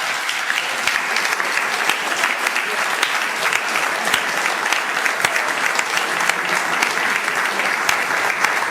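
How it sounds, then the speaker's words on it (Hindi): Sustained audience applause at a Hindi comic poetry recital (hasya kavi sammelan), a dense, even crowd clapping that runs unbroken for several seconds without speech. "आपकी तालियां"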